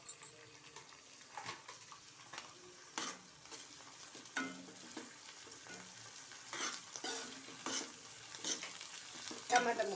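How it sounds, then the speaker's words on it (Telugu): Tomato pieces frying in a pan for veg biryani, a soft sizzle broken by repeated scraping stirs of a utensil against the pan, close and fairly quiet. "అప్పుడు మనం టమాటాలు వేసుకుందాం."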